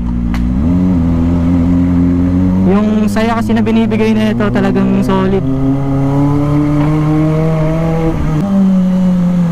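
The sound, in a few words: Kawasaki ZX25R inline-four motorcycle engine revving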